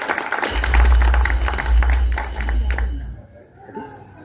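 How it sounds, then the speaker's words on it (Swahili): An audience bursts into applause at a Kenyan political gathering, with dense, fast clapping over a low rumble for about three seconds before it dies away. "Makofi."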